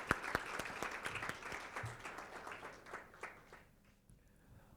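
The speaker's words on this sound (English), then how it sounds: "can you please give them a round of applause?" Scattered applause from a conference audience welcoming panelists on stage at a women-in-mining gathering, with sparse, distinct claps that are quiet and distant and thin out toward the end.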